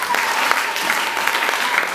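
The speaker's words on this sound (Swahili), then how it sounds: "Piga makofi kwa Yesu." A congregation at a Sunday church service claps together in dense, continuous applause, steady and fairly loud.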